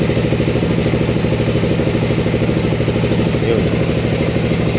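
An RFX hybrid motorcycle engine idling after start-up, with a continuous close, loud, even rumble and rapid regular pulsing throughout.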